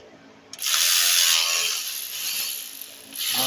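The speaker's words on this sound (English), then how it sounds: "we're about to take these 3 bolts out also" A ratchet spins loudly up close in a fast buzzing rattle while working bolts off the step motor bracket of a 2008 Nissan Sentra 2.0L, with one sustained run, a brief slowdown, then another burst.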